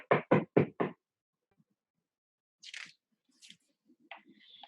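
Four quick, sharp knocks on a door in an even rhythm, close and clear, then quiet with a few faint small sounds afterward.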